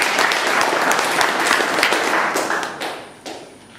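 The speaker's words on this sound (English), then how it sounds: "and a big round of applause." Loud, close applause from a small group at a Toastmasters club meeting, with distinct individual claps that thin out and fade toward the end.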